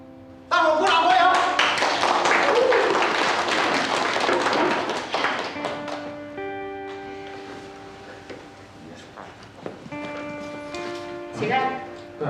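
An audience claps in welcome at a village gathering, a dense burst of applause that swells right away, runs loud for several seconds, then thins out while voices keep talking over and after it.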